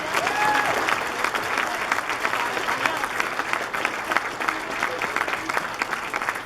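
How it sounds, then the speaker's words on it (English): A dense, steady round of audience applause for poets, singers and presenters at a Robbie Burns night, with continuous close clapping throughout and a few faint voices under it. "But one last round of applause for our poets"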